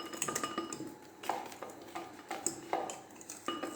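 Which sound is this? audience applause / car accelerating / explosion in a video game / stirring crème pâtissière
stirring crème pâtissière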